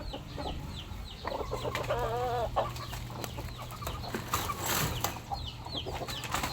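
Hens cluck and a rooster calls in short bursts, moderately close, with soft farmyard background noise throughout, at a small backyard farm.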